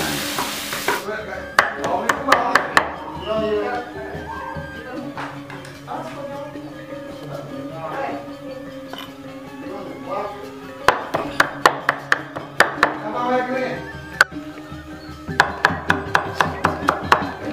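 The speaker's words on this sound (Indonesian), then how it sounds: "sekarang kelapanya kita cincang guys, kecil-kecil" Grated coconut chopped finely with a knife on a board for Balinese lawar, with bursts of rapid sharp chops alongside sizzling frying and a talking voice.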